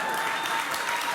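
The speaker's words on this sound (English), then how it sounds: "Why everybody clapping so loud for him?" Dense, loud clapping from a debate audience, a brief continuous burst close and even throughout.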